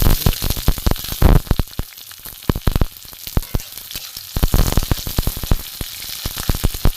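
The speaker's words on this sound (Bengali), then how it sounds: "পেঁয়াজটা ভাজা হোক।" Chopped onion sizzling loudly in hot oil in a kadai, dense crackling with repeated sharp pops and bursts that suggest stirring, close and continuous with no talk.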